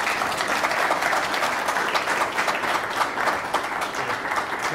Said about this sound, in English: So let's give Kevin a real big hand.